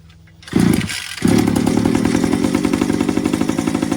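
A Rovan 360GT 1/5 scale RC sand buggy's gas engine, running on premixed fuel, catches with a short bark, stutters, then settles into a loud, close, steady buzzing two-stroke drone.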